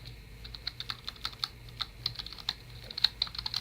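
Rapid, irregular keystrokes on a computer keyboard while a Word document is renamed, close and crisp, with steady clicking throughout and no talking.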